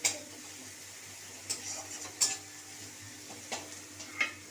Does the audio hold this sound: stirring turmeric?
yes